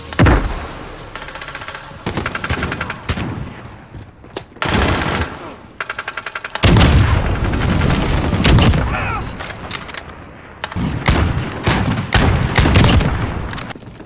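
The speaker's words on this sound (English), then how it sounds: "So here's the AX-50, one of the final sniper rifles in the game" An AX-50 sniper rifle in Call of Duty Modern Warfare fires several heavy, booming shots at uneven intervals, each followed by mechanical bolt clatter and other gunfire bursts, loud and close with no talking.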